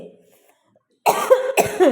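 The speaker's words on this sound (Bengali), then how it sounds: "বাবা এত কাশি হচ্ছে" A person coughs twice in quick succession, close and loud, after a brief stretch of near silence.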